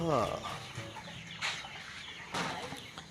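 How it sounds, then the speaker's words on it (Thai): A chicken clucking at a grandfather's house in Thailand, a few close, loud clucks and squawks in bursts amid background noise and faint talk. "ครับเจอไก่แล้วครับ"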